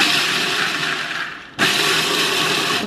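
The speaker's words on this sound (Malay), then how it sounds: "So hari ni saya akan gunakan food processor." A food processor whirs loudly and steadily as it grinds pecal sauce ingredients, pausing briefly near the middle and then starting straight up again.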